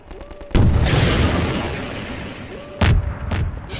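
A rocket launcher fires at a towering Strider in Half-Life 2, a sharp booming blast that rolls into a long rumble, followed by a second heavy explosion and a smaller crack near the end.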